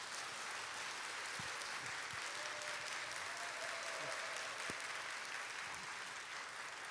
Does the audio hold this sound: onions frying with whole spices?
no